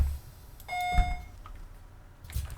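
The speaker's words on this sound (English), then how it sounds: "If someone presses the stop button." A single bright electronic chime from the stop-request button of a Volvo 7700A bus in OMSI 2 sounds close and clean, ringing for about half a second over a low idling rumble with a few soft clunks.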